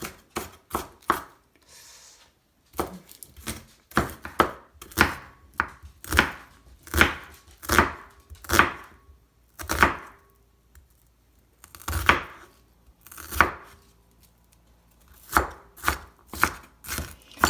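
Vegetables being chopped on a cutting board for a tofu scramble, a steady run of sharp knife thuds in quick bursts with short pauses, close and loud with no voices.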